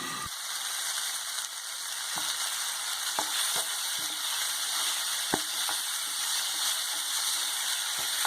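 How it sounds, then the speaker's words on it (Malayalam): Soya chilli sizzles steadily in an open pan while a spoon stirs it, scattered sharp scrapes and knocks rising over the constant close frying hiss. "നമുക്കതൊന്ന് മൂടി മാറ്റിയിട്ടൊന്ന് ഇളക്കി ഇട്ട് കൊടുക്കാം."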